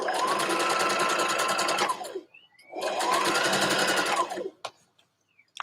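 A sewing machine stitches a dress hem in two sustained runs of rapid mechanical whirring, each about two seconds long, separated by a short pause and followed by a faint click.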